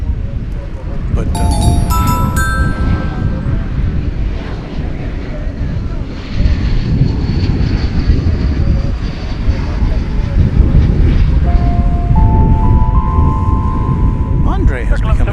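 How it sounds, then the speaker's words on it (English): An American Airlines Airbus A321 arriving from Las Vegas at DFW Airport gives a steady, loud jet roar that holds throughout. Brief tonal beeps sound near the start and end, and a voice talks over it. "It's an Airbus A321 coming in from Las Vegas."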